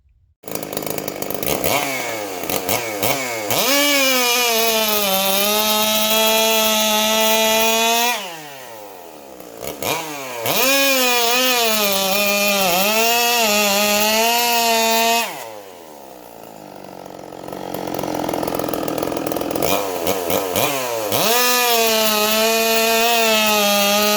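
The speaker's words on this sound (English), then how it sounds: "With the nitrous, cutting hardwood, just absolutely getting it." A nitrous-fed hybrid Stihl chainsaw built from 064, MS661 and MS460 parts, running a 52 mm piston, screams loud and close while cutting hardwood, with three long high-revving cuts separated by brief drops to idle.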